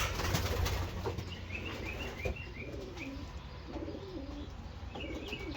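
Racing pigeons inside their loft give soft, low cooing calls in short repeated phrases, with occasional faint chirps and light rustling, steady and close against a continuous background hum.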